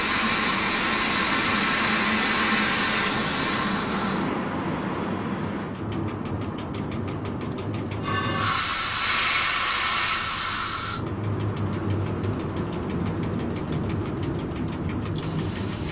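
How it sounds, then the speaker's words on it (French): Crocodile electric locomotive No. 3609 pulls into a station at Ettelbruck, a loud steady mechanical rumble with bursts of high hissing that swell and fade, no voices. "la 3609 se présente à l'entrée de la gare intermédiaire la plus importante du parcours"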